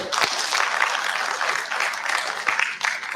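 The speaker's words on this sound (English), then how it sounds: "Let's give Francis another round of applause" Audience applause at an academic conference session on the afterlives of slavery, a steady dense clapping from a room crowd that continues evenly for a few seconds with no one speaking over it.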